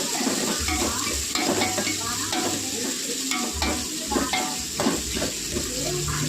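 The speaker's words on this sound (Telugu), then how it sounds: "ఆనియన్, పచ్చిమిర్చి వేసి కొంచెం బాగా వేగాలి" Chopped onion and green chillies fry in a pan with a constant crackling sizzle, punctuated by repeated scraping strokes of a spatula stirring against the metal.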